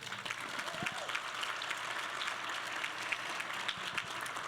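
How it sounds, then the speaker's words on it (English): Scattered, moderately faint applause rises from a women's leadership conference audience, a soft wash of claps with a few sharper hand hits standing out. "yes, we can clap for that."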